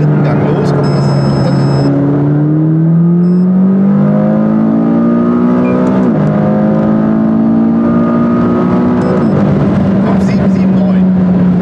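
A McLaren 570S sports car accelerates hard in third gear on a 100–200 km/h timing run, its engine note climbing steadily and loudly throughout, with short breaks in the rising tone around the middle and again near the end.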